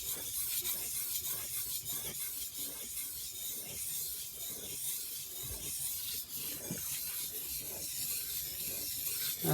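A plane iron drawn back and forth across a finer sharpening stone gives a faint, rhythmic rasping scrape in even repeated strokes, close and alone.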